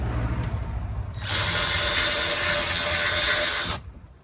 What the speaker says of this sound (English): Once you get your wheel off, you get your 13 mil socket.